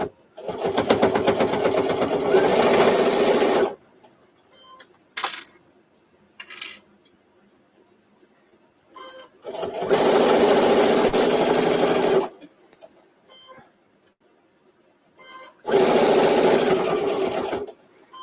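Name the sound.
sewing machine stitching fabric for a microwave potato bag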